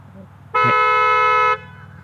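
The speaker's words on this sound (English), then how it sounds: "panic button. Pretty loud horn, I like it." A 2022 Kia Telluride SX AWD horn, set off by the key fob panic button, blares one loud, steady honk lasting about a second over faint background noise.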